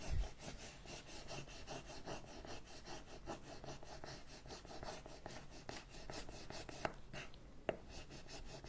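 A wooden apothecary sign being rubbed by hand: a continuous, quiet dry rasping friction with a quick back-and-forth rhythm, close up, ending with a few small knocks.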